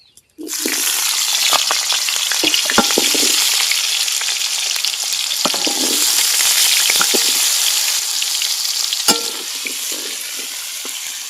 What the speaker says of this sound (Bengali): ওই তেলেই কেটে রাখা আলু দিয়ে দেব।